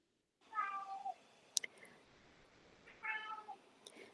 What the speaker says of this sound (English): you can hear our cat in the background